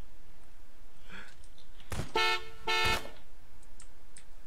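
Car horn honking in the Garry's Mod prop hunt game: two loud, sustained blasts close together, each about half a second long, with faint game sounds around them and no talk.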